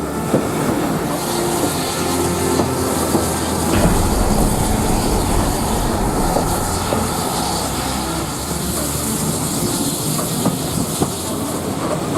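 A steam train on the Severn Valley Railway runs toward Bridgnorth Station. It makes a loud, steady rumble with broad hiss and rolling rail noise throughout, and no one speaks.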